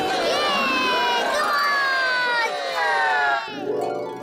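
An animated crowd cheers and shouts excitedly at a family game contest, a loud continuous roar of voices with rising and falling tones that swells and then drops off near the end.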